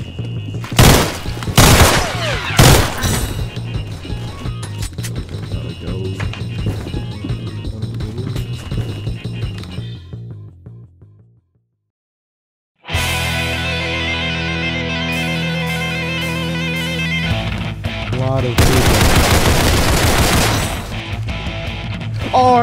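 Gunfire in the Roblox game Criminality, with sharp bursts of shots early on, a near-silent gap, then dense sustained noise and more loud reports toward the end.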